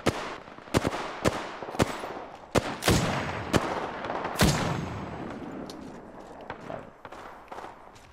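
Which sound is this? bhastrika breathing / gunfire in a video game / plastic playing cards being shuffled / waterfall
gunfire in a video game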